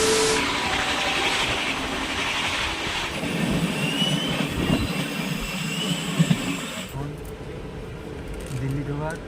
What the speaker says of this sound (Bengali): গাড়ি হুইসেল বাজাতে বাজাতে এগিয়ে চলেছে আমাদের গন্তব্যে